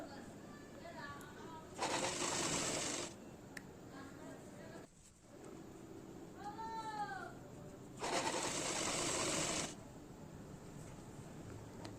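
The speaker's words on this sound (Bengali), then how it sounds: "সোজা দিকে বসিয়ে পরে উল্টো দিকে ঘুরিয়ে সেলাই করব" A sewing machine stitching the collar of a nighty whirs in two steady bursts of a second or more each, fairly close. Between them are quieter background sounds that include some chirp-like calls.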